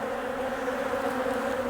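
Honeybees drone steadily inside an opened split colony hive, a dense, continuous buzz held at a close, even level with no voices over it.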